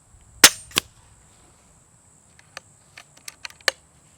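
Two sharp snapping shots close together from a Kalibrgun Cricket .22 air rifle, followed by a series of lighter mechanical clicks and ticks of cocking and cycling, quiet in between.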